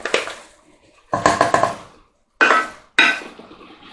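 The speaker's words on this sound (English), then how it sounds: "Using a whisk will just help it to incorporate better." Metal whisk knocking and scraping in a pan of mushroom and steak beef stroganoff, several short bursts of clattering strokes separated by brief pauses, close and fairly loud with no talking.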